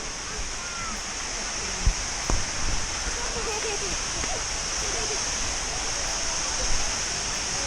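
A steady rushing roar of a waterfall in Sangkhla Buri, Thailand, continuous and close, with a couple of faint knocks and thumps nearby.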